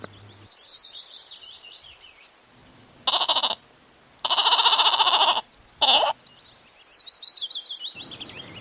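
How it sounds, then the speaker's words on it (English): Goat bleating in several loud, wavering bursts, three separate calls close together, with light birdsong twittering before and after. "G for goat"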